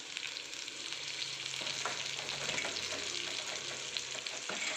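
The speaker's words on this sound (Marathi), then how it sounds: "कांदा आपला परतला चाललेला आहे" Onion sautés steadily in a pan over low heat, giving a continuous close sizzle and fry with faint stirring scrapes.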